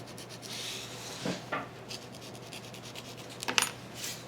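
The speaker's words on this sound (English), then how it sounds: "Let's do a little bit of beveling like we did on the first part." An edge of foam board for an FT P-51 Mustang model plane is bevelled with a blade. It gives soft, close rubbing and scraping in a few short strokes, fairly quiet and with no talk.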